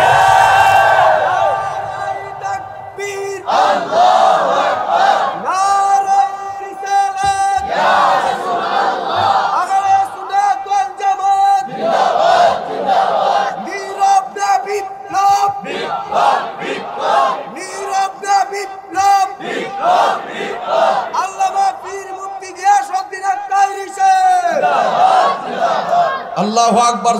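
A large crowd at a Bengali Islamic religious gathering chants the takbir "Allahu Akbar" in loud, repeated collective shouts, following a preacher's calls; the chants come in waves of rising and falling voices that fill the space.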